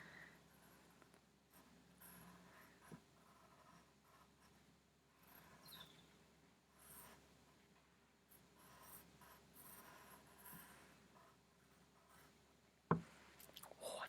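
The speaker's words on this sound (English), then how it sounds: "Right, so I'm just writing Freya's diary" Pen writing on a diary cover, faint close scratchy strokes in short bursts with quiet pauses and a sharp tap near the end.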